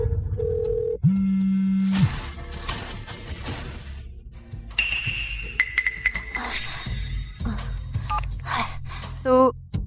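A child presses a mobile phone's keypad, producing a series of short electronic beeps and tones, with some people talking.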